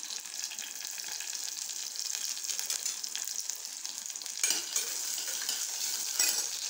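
Small onions and curry leaves fry in hot oil in a pan, making a continuous close crackling sizzle with a couple of louder bursts where the food is stirred.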